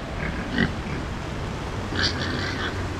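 Pigs grunt and snuffle in a muddy, flood-soaked homestead pen, with a couple of short squeals and grunts over outdoor background noise, close by.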